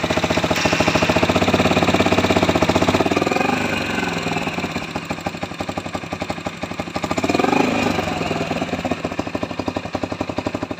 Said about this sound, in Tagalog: Kahit isang click lang ng starter nito ay umaandar agad ng napaka-smooth at walang